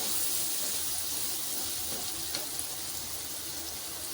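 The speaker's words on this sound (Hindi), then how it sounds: "अब हम इसमें पानी शामिल कर देते हैं।" Water poured into a pot of chana pulao makes a steady broadband rush that continues throughout, close and fairly loud, with no one talking.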